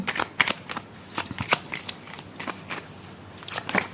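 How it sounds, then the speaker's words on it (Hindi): Tarot cards being shuffled by hand, a soft riffling and flicking that comes in uneven bursts at close range, with no voice. "आपको भी लग रहा होगा कि कार्ड्स कुछ बहुत धीमी गति से मिक्स हो रहे हैं।"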